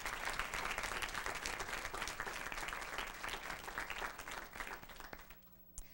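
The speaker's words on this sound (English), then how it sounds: "One more round of applause for our amazing Bissell students." A school board meeting audience applauds students with continuous clapping, heard faint and somewhat distant, fading out near the end.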